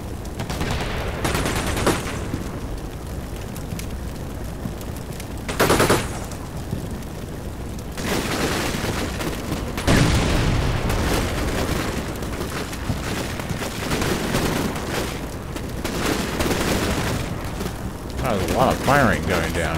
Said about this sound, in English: Firing going down here.